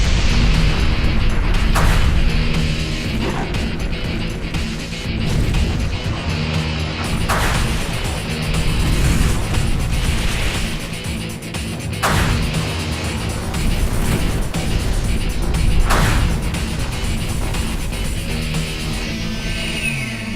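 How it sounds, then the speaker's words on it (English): Gunpowder ignites inside a household vacuum cleaner, giving several sharp, loud bursts spaced a few seconds apart over a clattering, mechanical background. "That was a pretty big explosion for a small appliance."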